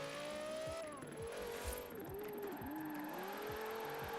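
Engine revving hard with gliding pitch sweeps and repeated tire squeals from a car in the Forza racing video game, after a maxed-out upgrade, loud and continuous with a faint voice briefly underneath.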